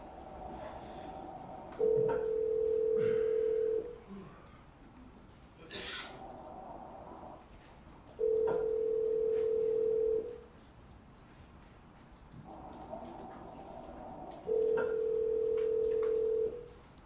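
A telephone ringback tone on a played-back wiretap call recording repeats three times as long, even beeps with quiet gaps between them, thin and slightly distant over a faint background hiss.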